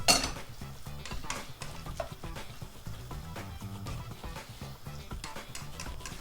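Pasta stir-fried in a pan for shrimp scampi: quiet repeated clattering and scraping of stirring with a light sizzle, close but soft, under background music.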